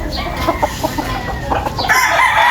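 A rooster crows loudly and close by, with clucking and other fowl sounds around it.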